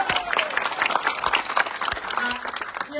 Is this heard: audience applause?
yes